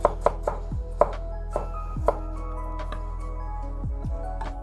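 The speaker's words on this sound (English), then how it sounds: "Next, we need to cut it into thin strips and add it to our soup." Knife chopping galangal and ginger into thin strips for Thai tom yum soup, a handful of crisp board taps at an uneven pace, close and clear with no talk.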